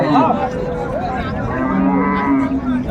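Cattle low at a busy cow-and-calf market at Raniganj haat, long droning moos rising over a constant crowd murmur, loud and close.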